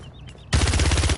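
Koga's guns firing in the video game Paladins, a loud, rapid burst of automatic shots in a tight steady rhythm that bursts in after a brief quiet lead-in and runs without a break to the end.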